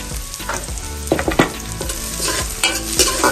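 Chopped garlic sizzles and crackles in a hot frying pan with scattered stirring clatter, no voices.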